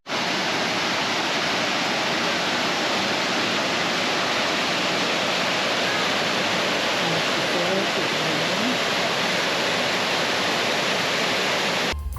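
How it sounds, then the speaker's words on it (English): The Sol Duc River rushes through a narrow rocky canyon below Sol Duc Falls, a dense, steady roar of churning water that stays loud and unbroken from start to finish. "one looks directly down into the narrow rocky canyon where the Sol Duc River passes beneath the bridge"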